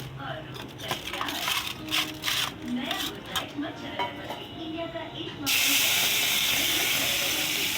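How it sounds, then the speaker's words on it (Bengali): Fish sizzles and spatters in hot oil in a kadai, a crackling hiss under a voice that suddenly swells into a loud, steady sizzle near the end. "তো এই দেখো অর্ধেক মাছ ভাজা হয়ে গেছে, আবার কটা দেবো কড়াইতে"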